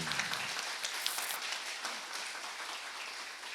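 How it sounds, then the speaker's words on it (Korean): A church congregation applauds during Sunday worship, a soft, distant-sounding round of many hands clapping that stays fairly even and faint throughout. "우리 하나님께 영광의 박수를 드립니다"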